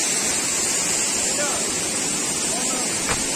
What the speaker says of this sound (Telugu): సున్నపురాయి గడ్డ అనే వాటర్ ఫాల్ అండి చూడండి మీరు